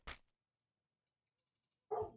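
A dog barks twice with a long silent gap between, each bark short and fairly close.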